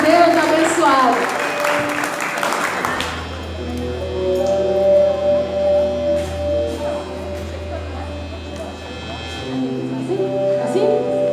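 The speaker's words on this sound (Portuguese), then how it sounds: "Palmas para ela, gente." A crowd at a women's church gathering claps for a woman, a burst of applause in the opening seconds that quickly fades into a steady hum of room noise and talk.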